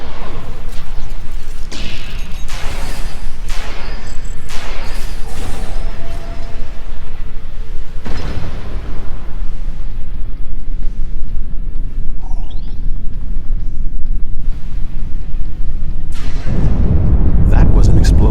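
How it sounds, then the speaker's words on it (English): A heavy explosion tears through a starship hull in Star Trek Online, with loud, sustained rumbling booms and crashing debris filling the scene, mixed with game effects and voices. "That was an explosion of sufficient magnitude to cause a breach"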